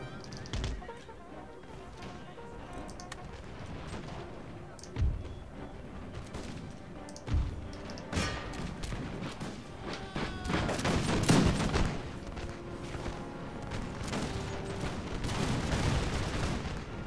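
Musket volleys and scattered gunfire from a battle in Empire: Total War, sharp cracks and rolling fusillades popping at varying distances over a low battlefield rumble.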